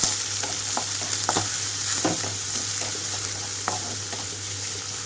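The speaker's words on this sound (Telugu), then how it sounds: "ఇవన్నీ చిటపటమని వేగేటప్పుడే కట్ చేసి పెట్టుకున్న ఉల్లిపాయలు వేస్తున్నాను" Chopped onions dropped into crackling oil with tempering spices and garlic for beetroot fry, a steady close sizzle with intermittent stirring scrapes and pops, no voices.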